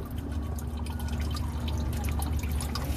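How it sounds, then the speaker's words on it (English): Thin motor oil drains from the oil pan of a 2019 Dodge Challenger Hellcat during an engine-flush oil change, a continuous close, trickling, water-like patter with no voices. "You can see the oil's just dripping out of the pan like water"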